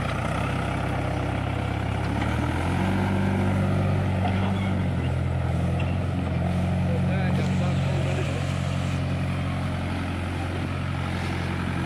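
A tractor engine runs steadily nearby, a continuous low droning rumble with a slight rise in pitch partway through, while people talk over it.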